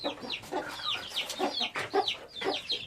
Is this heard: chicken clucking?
yes